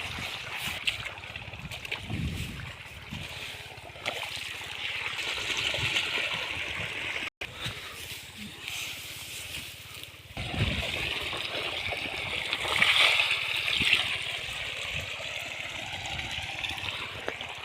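Irrigation water streams into a wheat field, a continuous rushing, gurgling flow heard up close throughout, swelling louder in the second half.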